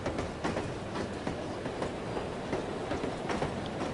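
Steady rumble of a moving train in the video game No One Lives Forever, with continuous rattle and rhythmic clickety-clack of wheels over rail joints, loud and constant throughout with no voices.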